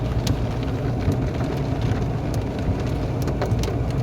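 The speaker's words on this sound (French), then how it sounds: "Pluie et avec un mélange de grêle." Heavy rain mixed with hail pours down steadily during a strong storm, a dense, continuous hiss with scattered sharp impacts, close and loud, with no voices.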